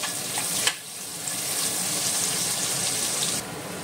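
Sliced onion frying in a pan for mutton xacuti, a steady loud sizzle throughout with a sharp clatter near the start, no voices.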